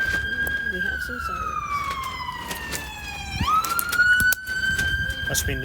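A wailing siren from a nearby fire station in Long Beach sweeps down and back up in pitch, heard at a distance outdoors during a women's triples bowling match, with commentary over it.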